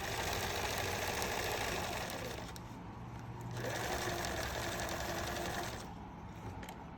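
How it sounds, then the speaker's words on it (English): Sewing machine stitching the side seams of a fabric tunic, a fast close mechanical whir in two long bursts with a brief slowdown between them, no speech. "I've pinned the side seams together, and now I'm sewing them."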